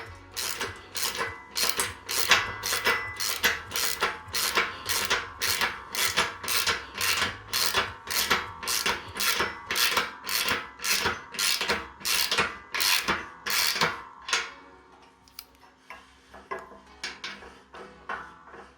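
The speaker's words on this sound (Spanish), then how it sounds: "Con la llave Allen agarramos por arriba y atornillamos por abajo." Allen key tightening bolts on an Adidas home gym weight stack and pulley frame, a long run of rapid rhythmic metallic ratcheting clicks in bursts that slow and fade near the end.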